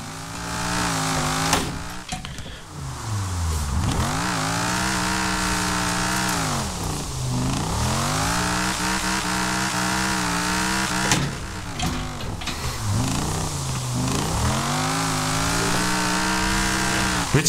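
A drift car's engine revs hard and continuously in Forza Horizon 4, loud and close, with repeated rising and falling pitch sweeps as the throttle is worked, and no talk over it.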